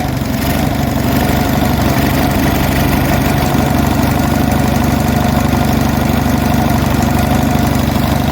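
An Onan US military generator engine runs stone cold on choke, giving a loud, steady idling chug with a low knocking pulse that continues unbroken and close by, with no voices.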